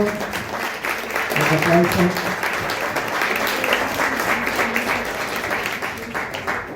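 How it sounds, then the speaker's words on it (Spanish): A strong round of applause fills a hall at a university book presentation in Córdoba, dense and sustained throughout, with voices mixed into the clapping. "Esto es un fuerte aplauso."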